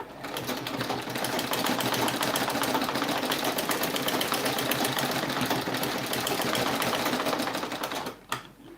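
Continuous, steady whirring and fast needle clatter from a sewing machine stitching fabric for a baby turban cap, loud and close, running without pause before stopping abruptly near the end.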